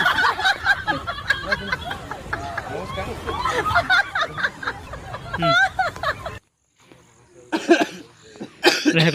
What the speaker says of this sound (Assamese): হেকটি মাৰি ল কাহঁটো মাৰি ল